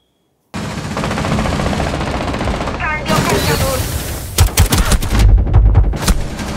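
Rapid bursts of gunfire in Rainbow Six Siege crackle and pop in quick succession, growing denser toward the end, with voices talking underneath the shooting.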